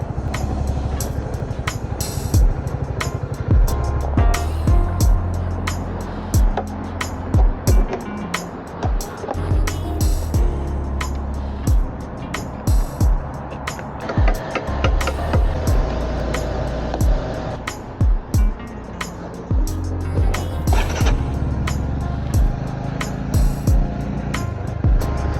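A Honda CB125R motorcycle riding along a road, its small engine droning with changing revs and gear shifts under heavy wind rush, with repeated bumps and knocks.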